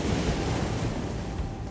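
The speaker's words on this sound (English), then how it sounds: "the sound of the waves" Steady, full roar of ocean surf washing onto a Canary Islands beach, continuous and loud with a windy hiss and no distinct breaks between waves.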